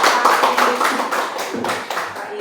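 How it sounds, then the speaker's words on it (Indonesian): Audience applause at a seminar orientation session in Surakarta, a dense wash of many hands clapping steadily and fairly loud, thinning slightly toward the end. "Tepuk tangan dulu untuk"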